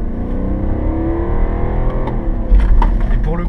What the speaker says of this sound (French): le diesel arrive à monter dans les tours avec une zone rouge à 5500